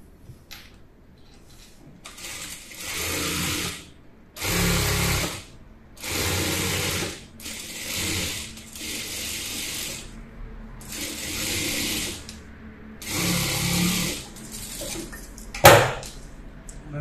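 A sewing machine stitches a frock for a two-year-old child in repeated close, rattling bursts of several seconds each, separated by short pauses, with a sharp click near the end.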